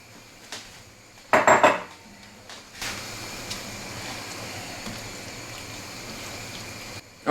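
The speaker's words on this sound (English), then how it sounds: "we're going to stir that up, make sure it gets all in and melted like it should" Sugar stirred into strawberry jelly in a pot: a spoon scrapes and clinks against the metal in a short loud burst, followed by a softer, steady stirring swish.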